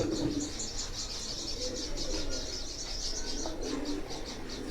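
Pigeons on a rooftop loft in Jalalpur Bhattian coo and chirp steadily at close range, with soft wing flutters over a constant background hiss.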